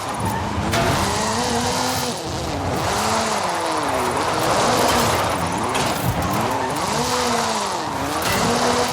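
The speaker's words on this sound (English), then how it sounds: "This is Mr. Kenneth Block's Hooligan Gymkhana 10 Ford Focus RS RX. 2-litre turbocharged front-mounted engine and all-wheel drive." Ken Block's Hooligan Gymkhana 10 Ford Focus RS RX, a 2-litre turbocharged all-wheel-drive rally car in Forza Horizon 5, roars loudly and continuously, its revs rising and falling in repeated swoops with tyre squeal mixed in.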